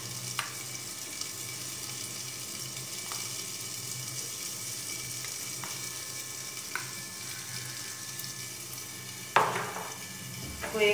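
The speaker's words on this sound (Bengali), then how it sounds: "ভালো করে এই ঘিকে আমি চাল আর ডালের সাথে মিশিয়ে নিচ্ছি।" Rice and fried mung dal being stirred with ghee in a pan make a steady, soft sizzle with a few sharp spoon scrapes and clinks spaced through it, then a louder clatter near the end.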